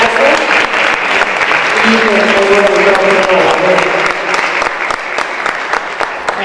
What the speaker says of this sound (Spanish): damos un fuerte aplauso a nuestros colegas, a ustedes por las clases